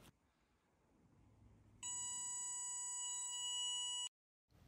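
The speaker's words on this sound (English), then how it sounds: "the buzzer will make a sound." The buzzer on a Petoi Bittle robot gives a steady, piercing electronic tone that holds for about two seconds and then cuts off abruptly, with no talk over it.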